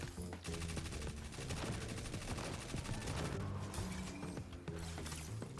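Rapid weapon gunfire in a sci-fi shooter video game with a hunter character build, dense bursts of automatic shots mixed with mechanical clicks and impacts, loud and continuous with a few brief gaps.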